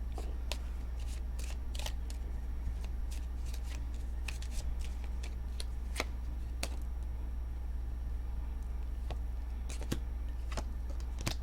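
Tarot cards are shuffled by hand with irregular sharp snaps and riffles, close over a steady low hum, while a voice talks intermittently.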